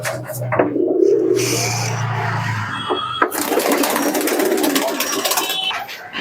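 Pigeons coo in a pigeon shop, a low rolling coo at the start followed by bursts of higher chirps, flutters and clatter as many birds call together nearby.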